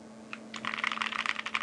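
Typing on a Xeno mechanical keyboard with a POM plate: a brief pause, then a quick, dense run of clacky keystrokes, close and clear over a faint steady hum.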